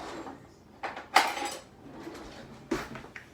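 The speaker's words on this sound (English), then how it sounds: "a butter knife with which to grab a glob of butter off this here plate with the butter on it" A butter knife scrapes a glob of butter off a plate in a home kitchen, giving a few brief clinks and scrapes of metal on the dish, close and moderately loud, with a quieter clatter before and after.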